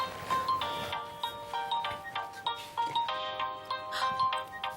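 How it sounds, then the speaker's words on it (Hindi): A phone rings with a repeating electronic ringtone melody, steady and fairly faint in a quiet indoor room, pulsing chimes repeating through the clip. "आजिर का फोन है, क्या करूं?"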